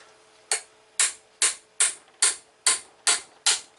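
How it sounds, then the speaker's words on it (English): Screwdriver tapping a slightly corroded part on a Pondmaster AP-100 pond air pump during diaphragm replacement: eight sharp, close metallic taps in a steady rhythm, each with a short ringing decay, with no talk. "Maybe I'll just tap it."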